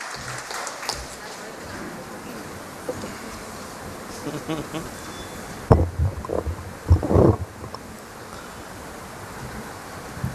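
An audience at a Women's Day celebration debate applauds as Professor Senthilkumar is welcomed to speak, a continuous dense patter of many hands with a few louder bursts later on.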